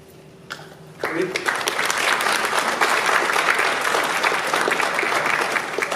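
Audience applause at a school honors assembly, a short lull of faint room sound and a brief voice, then a steady, dense burst of clapping from a large crowd that fills the rest of the clip.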